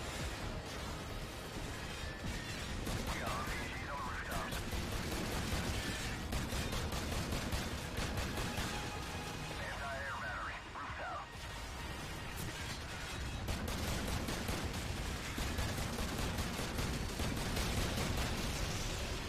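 Gunfire and explosions from the video game Call of Duty 4: Modern Warfare keep up as a dense, continuous battle din, with crackling bursts and heavy crashes filling the scene throughout.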